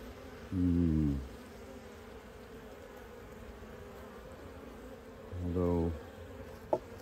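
Honeybees in a queenless hive, a faint steady hum of insects with two louder close buzzing passes as individual bees fly by the microphone, separated by several seconds, plus a brief click near the end.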